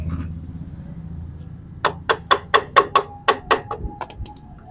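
Sharp metallic hammer blows drive a Hero Maestro scooter gearbox part into place, about ten quick, evenly spaced strikes that ring out close and loud after a low mechanical rumble.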